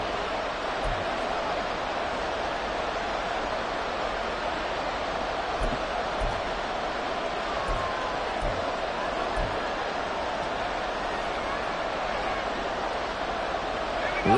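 Stadium crowd at an American football game near the goal line, a dense, steady roar that stays constant throughout with no clear peaks.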